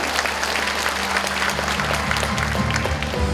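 An audience at a Uljin County talk concert applauds an introduced guest from Gyeongsangbuk-do, a dense, steady wash of many hands clapping that holds at an even level throughout, with low tones sounding beneath it in the second half.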